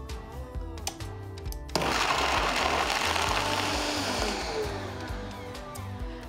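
A kitchen blender abruptly starts up and runs loudly and steadily, whirring as it blends dates with filtered water into a paste, after a brief quiet moment of light clatter.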